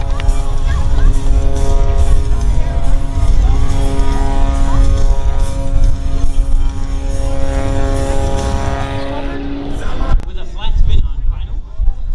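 A 370-horsepower aerobatic airplane engine drives its propeller during a hovering airshow maneuver, a loud, steady droning buzz with a sustained harmonic whine that holds for about ten seconds before shifting abruptly.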